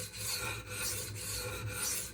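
A Magnacut steel knife blade is sharpened on a 320 grit Shapton Pro whetstone. Close, steady rasping strokes repeat in a rhythmic back-and-forth, with no talking.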